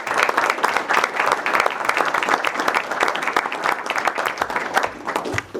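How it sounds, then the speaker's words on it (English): Members of the audience at a city council meeting give a round of applause, close and fairly loud, with individual hand claps distinct in a lively, uneven patter that tapers briefly near the end. "I would ask you for a round of applause on her behalf"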